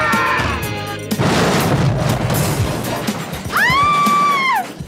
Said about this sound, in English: Blows up a building with a grenade.